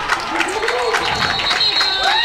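A big crowd fills nearly full stands at a high school football game. It makes a continuous, loud murmur with scattered cheers while an announcer talks over it.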